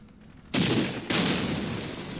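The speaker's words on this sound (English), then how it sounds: "Oh, they're definitely firing at our vehicles." Gunfire from a Middle East war strategy video game bursts in twice, a dense crackling volley that starts abruptly and rolls on loudly, preceded by a quieter stretch.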